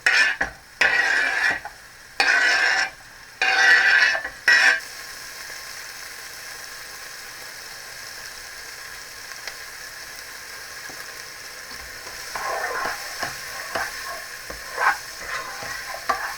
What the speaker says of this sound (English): we're going to stir it while cooking for 3 to 4 minutes